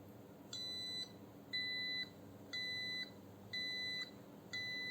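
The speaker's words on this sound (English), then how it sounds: "This passive buzzer is not having much sound." An Arduino passive buzzer module sounds five evenly spaced tones, each about half a second long with a short gap between, thin and fairly quiet over a faint room hiss.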